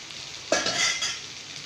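Okra stir-fry (vendakkai poriyal) with coconut being stirred in a pan, a sudden scrape at half a second giving way to a soft, steady sizzle and spatula scraping, close and fairly quiet with no talk.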